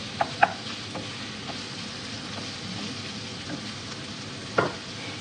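Ground beef fries in a pan with a steady, close sizzle, broken by a few sharp clicks of a utensil against the pan.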